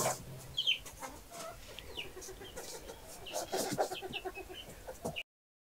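A male quail on a farm calls to a female while holding a beetle in its beak, giving short clucking, chirping calls over a noisy, rustling background, close and moderately loud.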